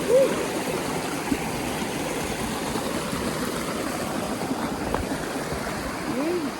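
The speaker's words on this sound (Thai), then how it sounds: "นี่ที่น้ำตกน้ำเยอะมาก" A waterfall carrying a large volume of water rushes in a steady, dense roar, close and continuous, with faint higher chirps breaking through briefly.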